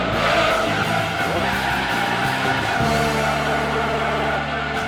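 A car pulling a handbrake skid in the racing video game Gran Turismo 3: a loud, continuous engine drone with a broad tire-skid hiss running underneath, unbroken through the whole stretch.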